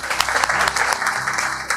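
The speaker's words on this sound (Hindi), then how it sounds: "ताली हो जाए।" Students at a hostel applaud with steady, dense clapping that holds loud and continuous throughout, with a few sharper claps standing out.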